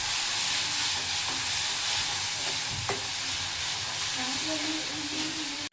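Ground masala paste sizzling in a hot pan with curry leaves for a spicy prawn curry, a steady broad hiss with occasional stirring scrapes, close and continuous with no talk.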